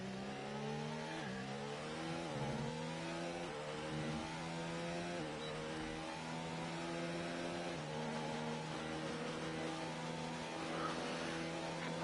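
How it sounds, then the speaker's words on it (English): Racing car engines in the F1 2019 video game, including Honda power units at the German GP, rev in a continuous high-pitched whine that climbs and drops with gear changes, steady and fairly loud with no talk. "the Honda engines don't sound like they're going very fast"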